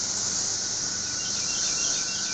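Cicadas give a steady, dense, high-pitched buzz that holds at an even, fairly loud level throughout, with no voices.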